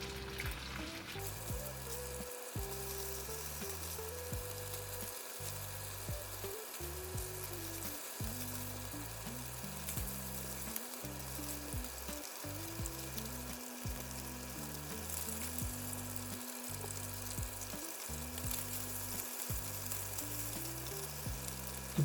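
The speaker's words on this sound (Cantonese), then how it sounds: "要俾啲心機慢慢煎啊！" Chicken pieces pan-fry in oil, a long, even, quiet sizzle with occasional soft stirring and spatula touches, no talking.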